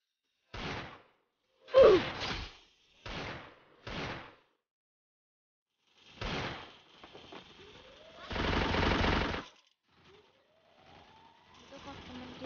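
Bursts of gunfire from a shooting video game come in short, sharp volleys with pauses between, followed by a longer sustained burst, while young players talk.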